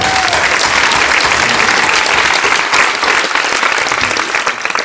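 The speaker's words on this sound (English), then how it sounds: "Give yourself a round of applause." Loud, dense audience applause at a gala dinner, a continuous wall of clapping that stays strong throughout and dips slightly only at the very end.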